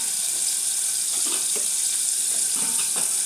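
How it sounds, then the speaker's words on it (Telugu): A glass of water pours into pumpkin pieces cooking in ghee in a pot, making a steady, bright hiss with soft splashes and bubbling underneath. No one talks. "కొంచెం ఒక గ్లాస్ నీళ్ళు పోస్తే బాగా మెత్తగా ఉడుకుతాయి."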